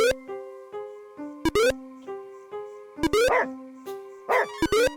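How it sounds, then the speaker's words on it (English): Hester, a dog in a video game, barks repeatedly in sharp, evenly spaced yips over a sustained musical backing, close and loud. "Hester kept barking at me until I followed her to the spot where you were trapped."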